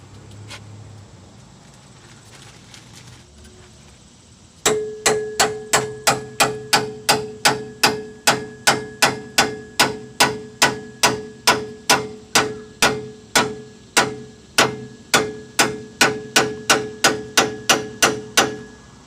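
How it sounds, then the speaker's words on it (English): A small sledgehammer strikes the steering knuckle of a 1993-98 Jeep Grand Cherokee during ball joint removal, ringing metallic blows repeated steadily about twice a second, loud and close, after a few seconds of quiet. "In order to remove the steering knuckle, we're going to have to strike it with a small sledgehammer."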